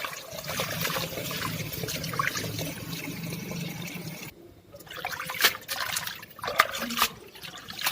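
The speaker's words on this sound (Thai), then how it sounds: "จากนั้นนะคะเราก็นำมาล้างน้ำน้ำหนึ่งครั้งค่ะ" Holy basil leaves rinsed once in water, a steady close trickle and splash of running liquid with a brief pause midway, then renewed splashing with sharper drips and clinks.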